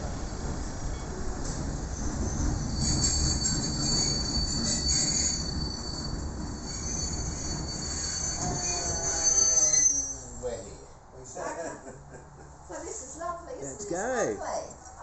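A train pulling into a station on an old Australian rail line, its wheels squealing in a long, high, sustained screech over a rumbling roll that fades as it slows, with someone talking near the end.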